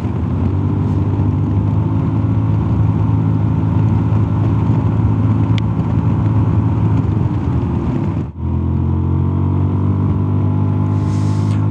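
A Zontes 350E motorcycle accelerating hard in sport mode, its engine droning loud and steady from up close with rising tone, a brief dip as it shifts gear, then pulling on strongly with wind rush.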